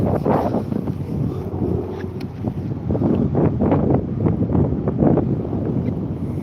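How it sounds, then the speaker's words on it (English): Strong wind buffets the microphone in rough, continuous gusts, a heavy rushing roar with no voices. "It's wind, been windy, and it's been wet and wintry."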